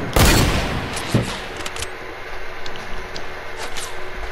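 Gunfire in the Fortnite video game, a loud sharp burst of shots at the start followed by another crack, then fading reverberant tail and quieter scattered game sounds.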